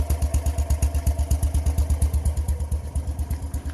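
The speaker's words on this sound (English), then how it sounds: "Here's our little Isetta putting around. You can see it, one cylinder, 13 horsepower" A BMW Isetta's one-cylinder, 13-horsepower engine putts along at a steady, rapid thumping rhythm, close and moderately loud, with no voices over it.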